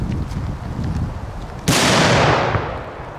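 A Caramella 6 firework goes off as one sharp, loud crack and a hissing burst that fades slowly, heard outdoors over steady background noise with no talking.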